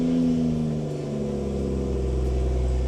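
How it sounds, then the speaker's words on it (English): BMW M240i with B58 engine and stock exhaust idling nearby, a steady low rumble with a smooth drone and slight pitch shifts, no talk. "For a completely stock exhaust, it sounds really good actually."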